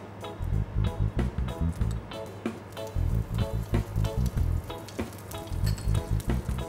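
Mustard seeds crackle and sizzle in hot ghee, pulsing in quick bursts of spattering that rise and fall in a steady rhythm, close and fairly loud.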